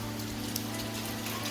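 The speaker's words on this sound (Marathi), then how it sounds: "हो बरं झाला वरून पाऊस" Steady rain falls over a Konkan village with freshly planted paddy fields, a constant broadband patter close by and alone, with a low hum beneath it.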